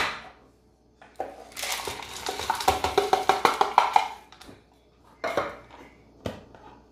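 Cookie dough with chocolate chips and walnuts stirred in a bowl, making a run of rhythmic scraping, clinking strokes against the bowl, then a few separate knocks after short pauses.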